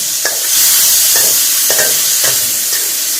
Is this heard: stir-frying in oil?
yes